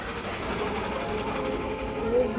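A steady video-game train rumble with a rhythmic clatter of wheels on track, constant and close, rising slightly at the end.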